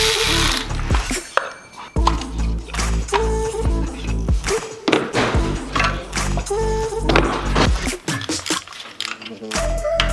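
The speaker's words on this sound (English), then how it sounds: "Then we'll go ahead and remove the spark plugs." Ratchet working on spark plugs in a Toyota engine, bursts of clicking and metallic turning in irregular spurts with clanks between, close and fairly loud.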